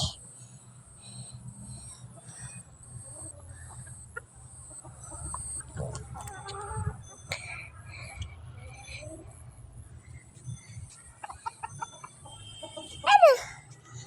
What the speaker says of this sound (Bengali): তিনটা মুরগি বড় করে দেখাচ্ছি